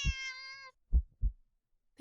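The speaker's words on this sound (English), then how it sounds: "The cat meows at you again" A video game cat gives one drawn-out, tonal meow, followed by two soft low thumps like heartbeats; quiet and close with no talking.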